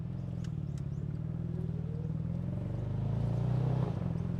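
Steady low drone of a three-cylinder turbocharged car engine with a buzzy, go-kart-like character, heard from inside while driving, rising slightly in pitch near the end with no talk.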